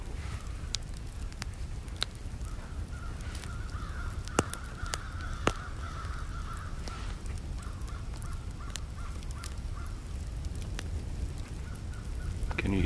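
Crows or ravens caw repeatedly in the distance across a quiet outdoor scene in the Black Forest, with occasional sharp crackles nearby.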